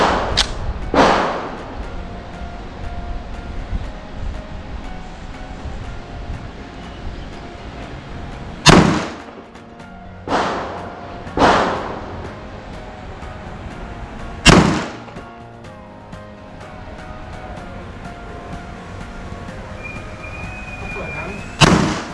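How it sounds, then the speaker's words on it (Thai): Five sharp, loud reports from an STI Apeiro .45 ACP pistol loaded with semi-wadcutter practice rounds, fired at uneven intervals over steady background hiss, with the voice of someone speaking between shots. "ต่อไปผมจะทำการยิงด้วยกระสุนซ้อมเซมิวัตคัตนะครับจำนวน5นัด"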